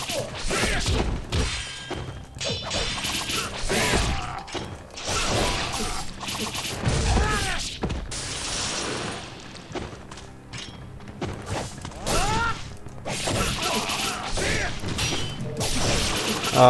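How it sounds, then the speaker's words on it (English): Glass shatters in the action game Ninja Gaiden Sigma, on hard difficulty, amid a dense, loud mix of clanging, crashing and thudding combat effects that runs continuously. "there was a noise of glass breaking"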